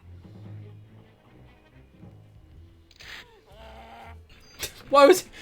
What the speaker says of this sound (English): Why did it make the noise of a fucking cow?